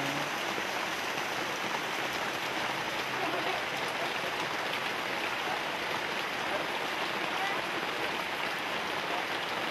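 Steady rain hisses and patters continuously, a dense wash of falling water and rainwater drips with no pauses, moderately loud throughout.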